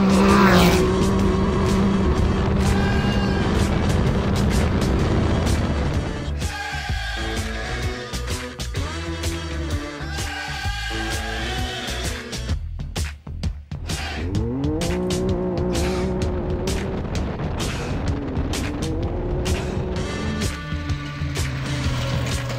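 Modified car launching hard from a standstill, engine revving loudly with strong acceleration and tire noise throughout, gear changes audible as pitch climbs and drops.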